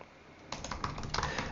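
Rapid keystrokes on a computer keyboard while coding, a close run of clicky typing that starts after a brief quiet pause and continues to the end, with no voice.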